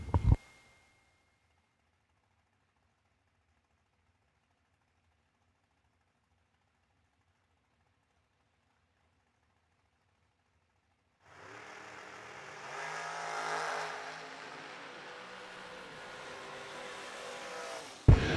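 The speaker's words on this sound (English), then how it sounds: "the recently revamped dragster" A recently revamped drag racing dragster launches down the left side of the racetrack, heard as a distant engine roar rising after a long quiet stretch, swelling then fading, with a loud thump at the very start and end.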